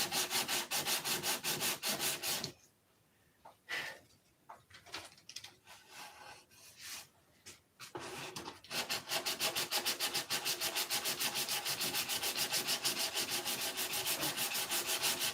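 Wood being sanded with steady, rapid rubbing strokes, loud and close, pausing for a few seconds of quiet shuffling before the fast rhythmic sanding resumes.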